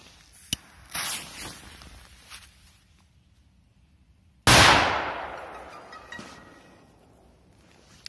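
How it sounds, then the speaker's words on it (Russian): A Mega Piratka P2000 firecracker bursts with a single loud, close blast midway through, followed by a long decaying rumble; faint scuffs and crackles come before it. "Следующая петарда Мега Пиратка P2000."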